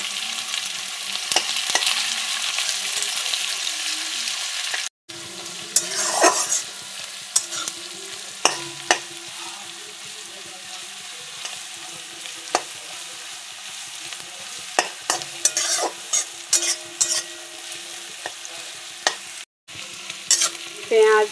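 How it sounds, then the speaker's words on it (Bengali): Chopped onions frying in hot oil with cumin seeds, a steady close sizzle broken by frequent clinks and scrapes of a stirring spoon against the pan, with brief pauses, and no talking. "পেঁয়াজ হাফ ভাজা হয়েছে"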